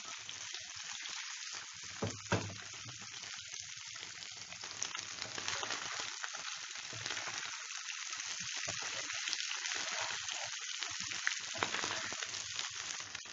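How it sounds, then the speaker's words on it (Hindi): Mutton brain masala fries on high flame in a pan, giving a steady close sizzle and crackle throughout, with brief stirring noises and no talking. "देखिए अच्छे से फ्राई हो रहा है, फ्लेम को हाई पे ही रखिए।"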